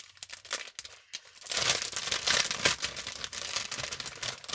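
Sheets of paper rustle and crinkle as they are pulled from a pouch, a steady, close, busy crackling with a few sharper crisp bursts and no voices.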